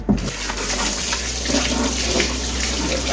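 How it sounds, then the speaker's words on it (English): A kitchen tap runs steadily into a sink while hands are washed with soap, a continuous close splash and hiss of water that fills all three seconds with little change. "I'm going over the other side to wash my hand with some soap."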